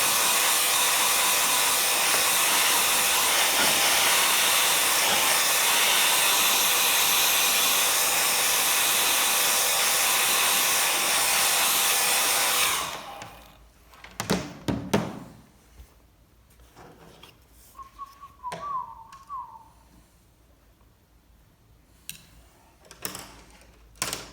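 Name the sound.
hair dryer drying watercolor painting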